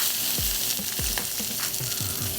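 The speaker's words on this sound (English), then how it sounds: "That's the sizzle we want to hear." Steady, loud sizzling of duck skin cooking skin side down in a hot pan, with a few low knocks and clunks breaking through the crackle.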